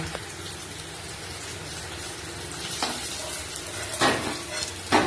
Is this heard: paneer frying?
yes